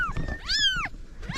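A cat gives two quick, close meows with rising and falling pitch over a low background rumble, during a rescue of kittens from a wood pile.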